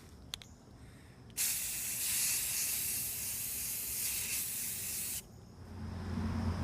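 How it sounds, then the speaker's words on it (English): An aerosol can sprays primer onto the front end of a GMC bus, a loud continuous close hiss lasting about four seconds, with quieter background noise before and after. "Let the priming begin."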